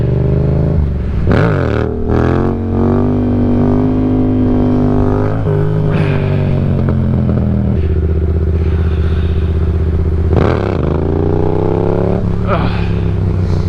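Motorcycle engine revving hard in second gear for a stand-up wheelie, loud and close throughout, with the pitch climbing and dropping through repeated throttle surges and gear changes.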